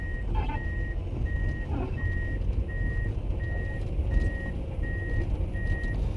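An excavator tracking forward on a job site, its steady engine rumble under a regular, repeating reversing-style alarm beep that pulses about every half second throughout.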